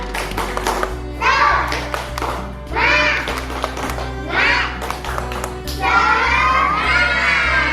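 A group of schoolchildren performs a rhythmic 'tepuk semangat' clapping chant in unison, with loud bursts of claps and shouted chanting in repeated phrases that grow into a sustained, lively final section.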